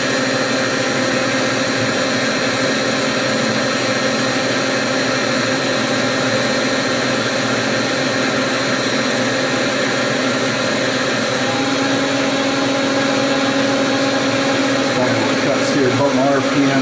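A machine cuts a step into a metal part on a Jeep JKU link build, giving a continuous, even whine and hum that holds steady throughout and shifts slightly in tone near the end.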